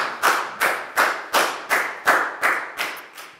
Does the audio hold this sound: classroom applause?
yes